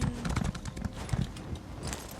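Hooves of a slow horse clip-clopping as it is ridden in a game, a steady uneven patter of soft thuds, moderately close, with no talk over it.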